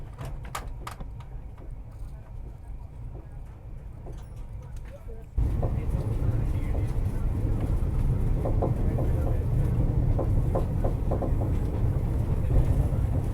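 The Mumbai–Delhi Rajdhani Express, a push-pull train, runs at speed in a storm of heavy rain. A steady rumble comes from the rails with rhythmic clicks over the joints, and it grows abruptly louder halfway through.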